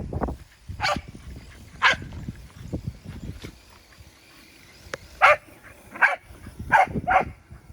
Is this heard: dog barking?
yes